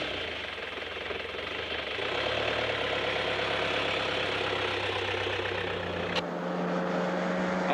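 A vehicle engine drones steadily on a drive east through the Australian desert toward Alice Springs, with rough mechanical rattle and road noise and a brief shift in tone near the end, no voices.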